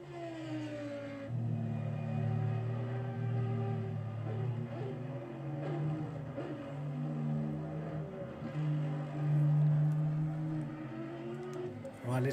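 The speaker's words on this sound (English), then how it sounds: "Also, very great sounding car." Audi race car at Suzuka circuit with its engine running loud and close, strong sustained harmonic tones rising and falling through gear changes for about eleven seconds, no talk over it.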